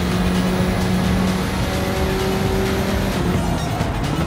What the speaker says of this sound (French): vous entendez tellement bien le bruit du moteur